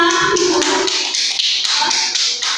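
Audience applause at a school session on positive discipline: dense, steady clapping from a crowd that fills the whole moment, loud and close, with no talk over it.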